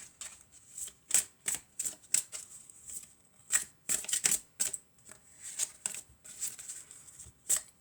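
Angel love oracle cards shuffled by hand, heard as close, repeated papery riffling bursts in an uneven rhythm with short pauses between, and no voices.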